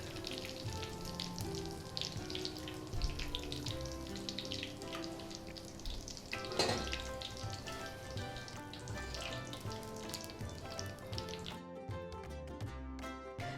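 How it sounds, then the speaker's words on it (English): Boondi frying in hot ghee for motichoor ladoo, a dense steady crackling sizzle with some bubbling, close and moderately quiet, no voices. "As soon as you add it to the ghee, you have to take it out."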